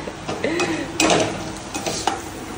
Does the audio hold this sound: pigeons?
no